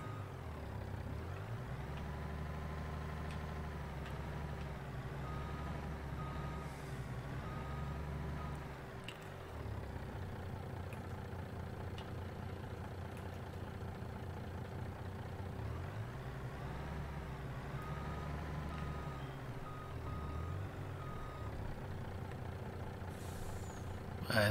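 Truck backing up in Farming Simulator 22, a steady tonal beep held throughout over a low, continuous diesel engine rumble that swells and dips in regular cycles.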